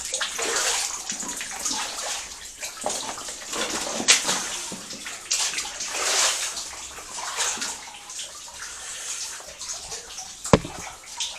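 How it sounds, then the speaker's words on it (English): Water pours and splashes steadily inside the Foel Ispri gold mine, a dense continuous wash of falling drips and trickles, fairly close, with occasional sharper splashes and no talking. "Go through the drippy drips."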